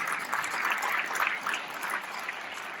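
Audience in a crowd applauds a speaker's mother, a steady, moderately loud patter of clapping hands that holds evenly without any voices.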